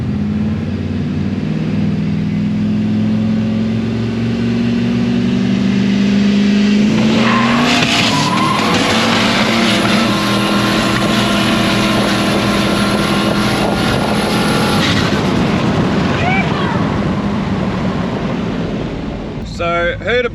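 An OSP Shop ute in a roll race, its engine revving loudly and climbing in pitch before the tyres break traction into a long, roaring wheelspin with squealing rubber. The noise stays close and dominant throughout.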